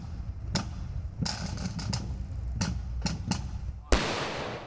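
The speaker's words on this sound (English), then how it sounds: "21 shots" Rifle volley of a 21-gun salute at a cemetery burial for a recovered World War II serviceman, several sharp outdoor cracks spaced a second or so apart, the last louder and ringing out briefly.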